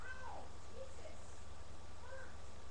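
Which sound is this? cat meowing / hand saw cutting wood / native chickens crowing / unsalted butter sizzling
cat meowing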